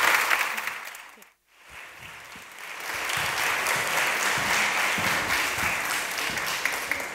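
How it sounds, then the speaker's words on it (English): An audience at a creative meetup in London applauds. The clapping drops briefly into a short lull, then swells back into steady, full applause that lasts several seconds. "please join me and give me a huge round of applause to Patricia Bright"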